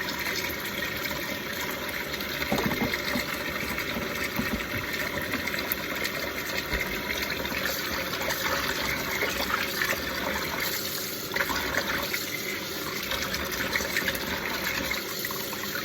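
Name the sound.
water being poured in for blocking crochet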